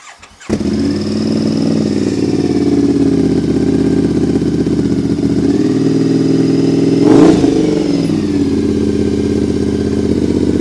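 A Triumph Bonneville Scrambler engine with a repacked exhaust and redone baffle starts and runs with a deep, throaty burble, briefly revving higher partway through before settling back, loud and close.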